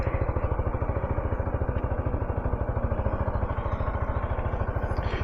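A Yamaha SMAX scooter engine idles steadily with a fast, even putter, close by and loud, with no talking.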